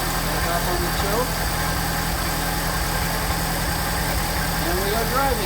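Engine of a Mercedes 190SL with Solex carburettors running on choke while driving off, a steady droning hum heard from inside the car, with someone talking over it.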